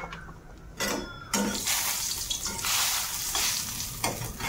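A little mustard oil hits a hot pan while a local khar dish with jackfruit seeds is being made, giving a steady close sizzle with bursts of frying hiss and some stirring.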